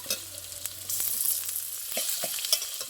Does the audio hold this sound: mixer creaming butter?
no